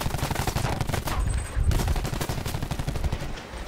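Rapid gunfire aimed at a 7-Up bottle in a video game: a dense burst of sharp, loud shots repeated in a fast automatic rhythm, with a brief pause midway, and no talking.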